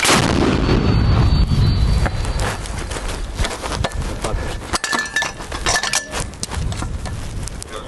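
A loud, booming shot from a mounted automatic grenade launcher at the front opens the clip, followed by rattling metallic clinks and shuffling noise as the echo dies away.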